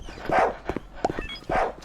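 Police dogs in the Roblox game Mad City bark in sharp repeated bursts, three or four loud close woofs with short yelps between, heard on their own.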